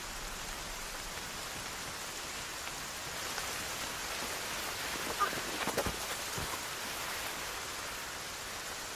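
Rain falls steadily outdoors as a soft, even hiss of moderate loudness, with a few slightly louder splashes midway and no voices.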